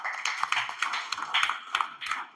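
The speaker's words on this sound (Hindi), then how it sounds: "मैं चाहूंगा कि उनके स्वागत में अपन सभी तालियां बजाएं।" Applause from a seminar audience welcoming a guest, with irregular claps from a modest crowd, fairly close and steady for a couple of seconds with no talking.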